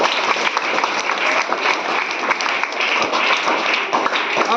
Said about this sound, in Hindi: विवेक कुमार के लिए मैं जोरदार ताली मांगेगा